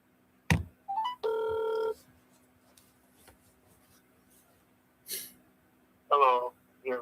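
An outgoing phone call rings through a handset: a short electronic tone and a brief buzzing ring burst sound amid quiet gaps, followed by a voice speaking.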